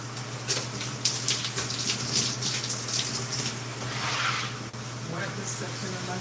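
Running water rinsing hair, a steady close splashing rush with a low hum beneath, continuous and moderately loud throughout.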